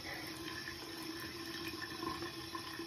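Water runs steadily from a bathroom tap into a sink during a skincare routine, a continuous, even rush of moderate loudness with no talk over it.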